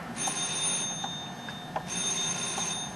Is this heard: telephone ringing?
yes